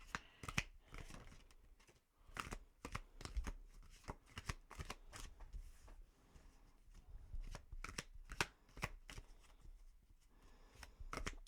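Tarot cards are shuffled up close for a reading, a run of quick riffling bursts and soft slaps in an uneven rhythm, quiet and alone with no talking.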